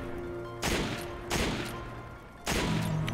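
Gunfire in Resident Evil 5 comes as three loud, sharp shots spaced roughly a second apart, each with a short decaying tail over a steady hum of game music.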